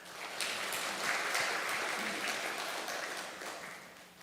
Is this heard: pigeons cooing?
no